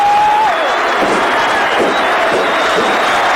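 A huge cricket crowd at St. George's Park cheers and applauds loudly and continuously, a dense roar of many voices filling the stadium throughout.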